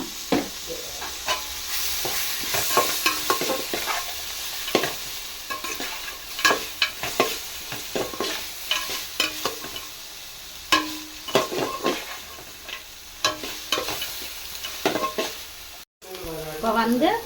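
Ginger paste sautés in a pan for prawn biryani, a loud continuous sizzle broken by repeated scraping and stirring strokes of a utensil against the metal, close up.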